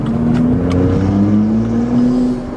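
BMW M235i with a BootMod3 Stage 2 tune pulling hard in second gear: a loud, steady engine drone rising slightly in pitch for about two seconds, then easing off.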